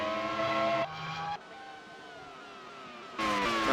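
Formula One cars race side by side into the first turn at the 2003 Hungarian round in GP4, high screaming engine tones that shift pitch as one car drops back and another surges in close and loud.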